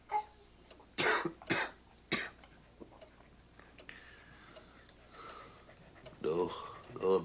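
Someone coughs in a NyQuil cold-medicine TV commercial, a few short, harsh coughs early on followed by quieter throat sounds and a spoken voice.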